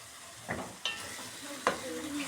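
A spoon scrapes and stirs rice in a hot pot, with a few distinct scraping strokes over a soft, steady sizzle.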